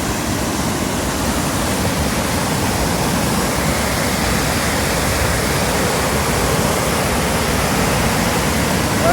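The Arvan river in the Alps rushing in full flow, a loud, continuous broadband roar of churning water heard close by, steady throughout with no voices.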